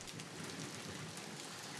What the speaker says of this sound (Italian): È rarissimo che piova così.